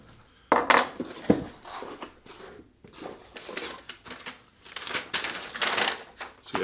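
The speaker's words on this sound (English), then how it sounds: "are going to open up the ME3D box" Cardboard box for Superfeet ME3D custom insoles opened carefully by hand, giving close crinkling, tearing and rustling bursts in an uneven series, louder near the start and busier again toward the end.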